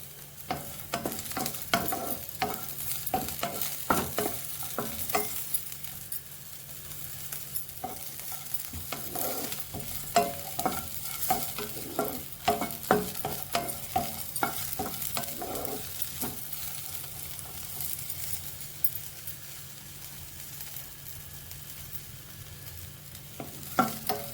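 Curry leaves roast and get stirred in a pan for spice powder, giving a steady dry sizzle with frequent scraping stir strokes, fairly close and continuous with no voices.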